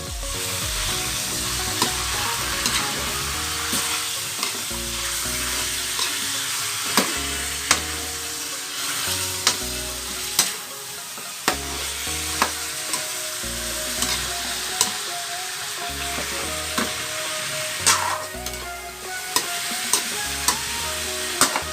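Banana blossom adobo with pork hock sautéing in a pan: a continuous loud sizzle with repeated sharp scrapes and clacks of a utensil stirring at an uneven rhythm, no voices.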